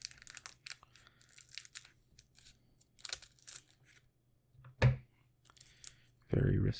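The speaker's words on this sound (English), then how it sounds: "Let's try scissors." Scissors cut open a Magic: The Gathering Commander Legends booster pack, with soft crinkling foil and snips scattered through a quiet room, ending in a louder crunch and tearing burst.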